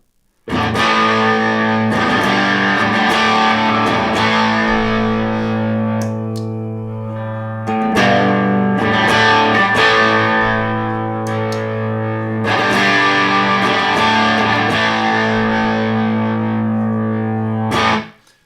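Electric guitar with gritty overdrive plays chords in several bursts, each ringing out before the next strum, with no talking.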